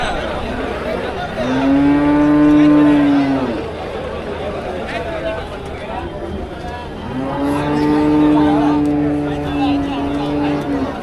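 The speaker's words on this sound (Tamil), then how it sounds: "மாடு மாடு" At the Melapalayam cattle market, where rekla racing bulls are brought for sale, cattle let out two long, drawn-out moos, loud and close, separated by a pause filled with background market chatter.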